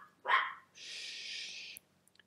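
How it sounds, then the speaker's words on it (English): A dog gives a single sharp bark at workers in the neighborhood, followed by a longer breathy whine or huff and a few faint clicks, heard indoors at low volume. "my dog is barking at them"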